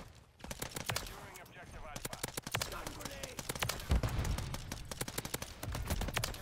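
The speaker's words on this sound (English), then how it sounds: "Oh my god, this pistol goes crazy." Rapid pistol fire in Call of Duty MW3, fired in fast, dense strings of sharp shots with short pauses, close and loud over a game background, with a voice talking partly underneath.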